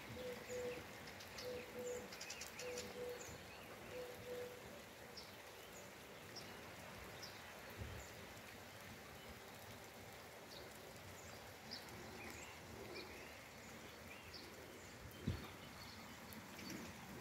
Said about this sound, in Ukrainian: Де ти співаєш, пташечка?